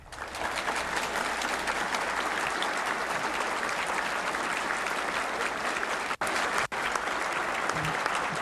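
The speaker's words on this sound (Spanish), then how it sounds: "Cuando Fidel termina el discurso, fue una gran ovación." Sustained ovation after Fidel Castro's speech, with dense, loud applause from a large audience that runs steadily throughout, broken only by two very brief dropouts.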